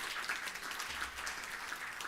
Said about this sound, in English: A big round of applause, Vincent Luis,